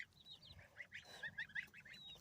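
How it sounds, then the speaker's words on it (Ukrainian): Several geese honk close by in a noisy, overlapping chorus of repeated nasal calls. "Ось такі в мене гусочки"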